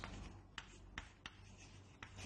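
Chalk or marker strokes on a board during a biology lecture on meiosis, soft scratchy rubbing with a few sharper taps, close and quiet with no talking.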